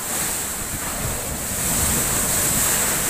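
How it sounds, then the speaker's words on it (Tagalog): Typhoon-driven sea waves surge and break in a steady, loud wash of surf, wind noise battering the microphone throughout, building slightly toward the end. "Tapang ng alon, oh."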